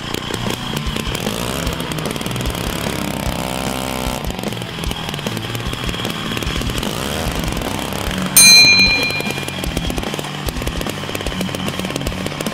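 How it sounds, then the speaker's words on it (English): A chainsaw or power saw runs steadily and loudly throughout, its engine droning as it cuts, with a sharp metallic burst partway through. "Let the saw do the work."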